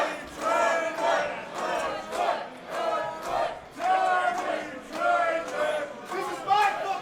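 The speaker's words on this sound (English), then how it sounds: "you can hear the Elks Lodge crowd getting behind both of these warriors." A large indoor wrestling crowd at an Elks Lodge in Livonia roars and shouts in sustained waves, swelling and dipping without a break, loud and close.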